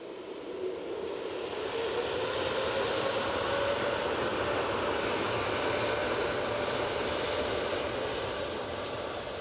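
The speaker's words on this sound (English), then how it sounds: "That beautiful TUI Dreamliner is off to Palma de Mallorca today." A TUI Boeing Dreamliner jet takes off from an airport toward Palma de Mallorca, a loud, sustained engine roar that builds in the first second and then holds steady, with no voices.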